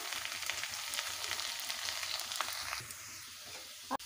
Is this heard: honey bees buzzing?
no